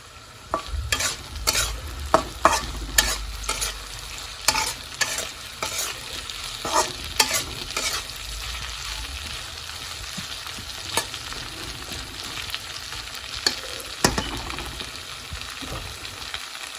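Onions fry in a pan while a spatula stirs them, sharp metallic scrapes and clacks recurring irregularly over a steady close sizzle, with no voices.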